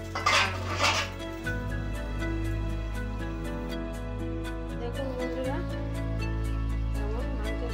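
Pepper chicken being stirred in a pan as it cooks down on medium heat, with repeated metallic clinks and scrapes of a spoon against the pan, close, over a steady background hum.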